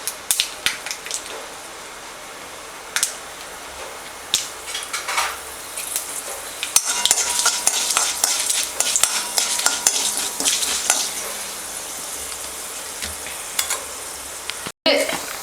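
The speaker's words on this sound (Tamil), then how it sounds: "கருவேப்பிலை போட்டுக்கோங்க. கொஞ்சம் உளுந்தம்பருப்பு போட்டுக்கலாம்." Curry leaves and urad dal hit hot oil with mustard seeds in a home kitchen, giving a steady crackling sizzle that swells midway, with occasional clinks of a stirring spoon against the pan and no talking.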